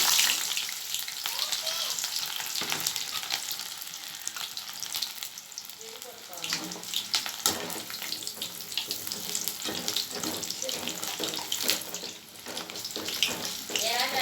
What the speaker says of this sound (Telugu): వేగనిద్దాము